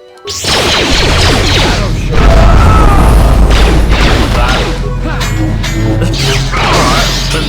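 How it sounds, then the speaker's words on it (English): A grenade blast in Star Wars: Knights of the Old Republic, a loud booming impact with crashing debris and whooshing effects layered in game combat noise, sustained and heavy for several seconds. "When all else fails, using grenade."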